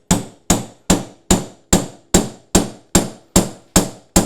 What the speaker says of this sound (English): we just drive this into the hole, so it's taking the corners off and leaving us with a round dowel